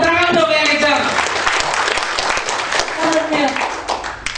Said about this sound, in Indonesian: Tepuk tangan dong yang kencang